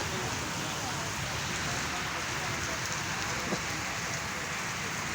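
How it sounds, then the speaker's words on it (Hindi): Rain falls on a road in Badla, a steady, even hiss of dense drops on the wet surface, continuous and fairly loud throughout, with a possible faint voice beneath it. "ये देख सकते हो बारिश आ रही है।"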